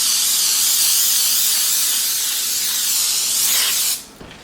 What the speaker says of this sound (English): I'm just going to spray my cookie sheet with the Pam baking spray